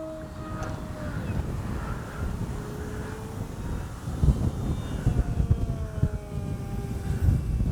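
A Durafly Rare Bear RC airplane flying overhead gives a continuous buzzing motor drone whose pitch rises and falls as it passes, over gusty outdoor wind noise.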